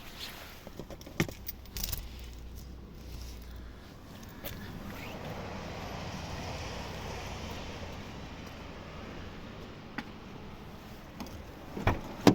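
Keys of a 2022 Jeep Renegade jingle in a few short, close bursts near the start and again at the end, over a low, steady hum.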